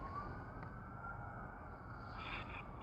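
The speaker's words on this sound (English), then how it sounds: "That's an ambulance, man." A distant ambulance siren wails faintly in the background, its tone rising and fading as it passes, with no talking over it.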